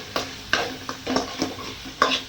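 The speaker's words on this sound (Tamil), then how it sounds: "தக்காளி நல்லா ஒரு பெரிய தக்காளி 1 பொடி பொடி அரிஞ்சு போட்டு இதை அப்படியே நல்லா வணக்குங்க" Chopped tomato and onion sautéing in hot oil in a pan for a mutton fry, with repeated spoon-stirring scrapes over a soft, steady sizzle, close and fairly quiet.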